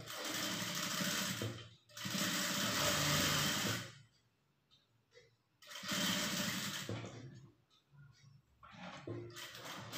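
A sewing machine runs in three long, loud bursts of steady whirring as it stitches blouse cloth, stopping between runs with quiet handling sounds in the gaps.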